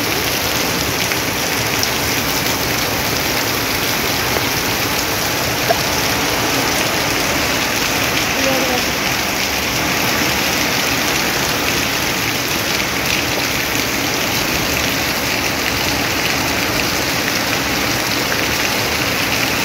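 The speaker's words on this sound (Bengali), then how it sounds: "ভীষণ বৃষ্টি হচ্ছে, ভীষণ ভীষণ" Heavy rain pours down steadily, a loud, unbroken hiss of drops drumming on surfaces with no voices.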